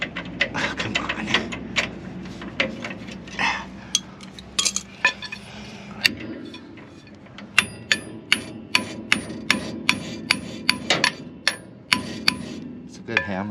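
Repeated sharp metallic hammer strikes, irregular at first and mixed with clatter, then settling into a steady rhythm of evenly spaced blows, fairly close and loud, with brief talk early on.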